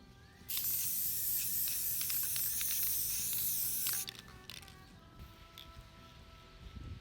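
An aerosol can sprays a coat of crystal clear onto a prosthetic mold: a loud, steady hiss for about three and a half seconds, then it cuts off, leaving faint rattles and quiet room noise.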